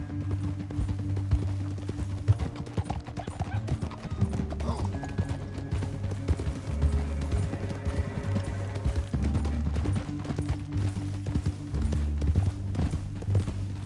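Horses gallop in Red Dead Redemption 2, their hooves clip-clopping in a steady, continuous rhythm from start to finish over a low droning background, with no talking.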